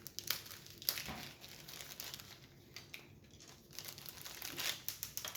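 A plastic zip pouch holding an Oraloa diamond painting kit crinkles and rustles as it is opened, with soft, close crackles and a few sharper tearing snaps, quiet and without talk.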